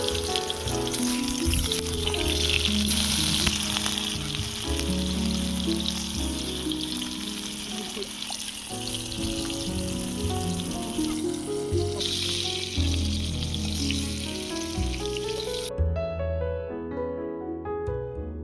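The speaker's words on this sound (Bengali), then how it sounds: "এবারে টমেটোগুলো দিয়ে নেব।" Tomatoes sizzle and fry steadily in a pan of hot oil, a continuous, close hiss with faint stirring that stops abruptly near the end.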